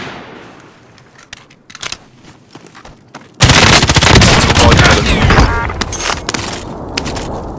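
Gunfire in the Call of Duty Modern Warfare video game: a few scattered shots at first, then a sudden loud sustained burst of rapid automatic fire that continues through to the end.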